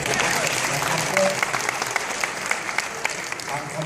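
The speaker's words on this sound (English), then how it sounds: "It's a good time to clap." A town hall audience in Washington, DC claps in a steady, dense burst that fills the room, with scattered louder individual claps standing out and a faint voice murmuring underneath.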